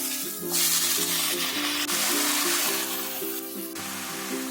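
Spinach greens with tomato sizzling steadily in a pan while being stirred, a continuous loud frying hiss with a melodic music bed underneath.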